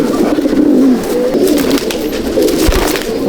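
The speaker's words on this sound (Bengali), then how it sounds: "এই হলো রুটিলা পায়রা" Rutila pigeons in a loft coo in soft, repeated rolling calls, close and clear, with faint rustling around them and no talk.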